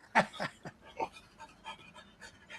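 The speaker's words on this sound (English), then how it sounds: "Because I hear the dog" An excited dog nearby, with a few quick breathy bursts, panting and small whimpering noises in an uneven rhythm, fairly soft against a quiet room.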